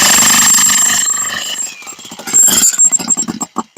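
An Einhell electric demolition breaker hammers loud and close at full revs for about a second and a half, then drops into a quieter feathered-trigger rhythm of short bursts with uneven gaps.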